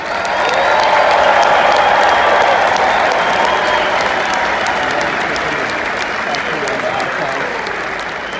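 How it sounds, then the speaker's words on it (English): A large crowd applauds and cheers for a hockey broadcaster at a celebration for his award, a loud, sustained roar of clapping that holds steady for the whole stretch, with voices faintly mixed in the crowd noise. "Let's give him another round of applause."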